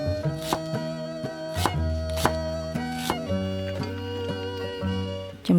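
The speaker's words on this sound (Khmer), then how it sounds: "ហើយក៏មានខ្ទឹមក្រហមចំនួន2មើមហាន់វាស្ដើងដូចគ្នា" A knife slices two shallots thinly for a Cambodian beef tripe dish with fermented fish sauce, giving a few crisp, separate cuts over steady background music.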